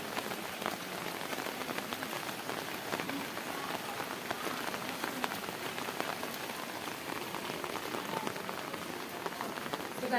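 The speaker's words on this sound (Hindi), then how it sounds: "पहाड़ों में कोहरा लगा है और खूब बारिश हो रही है" Heavy rain pours steadily in misty, fog-covered mountains of Kumaon, a dense continuous hiss of drops on surfaces with no voices, holding an even, close, moderately loud level throughout.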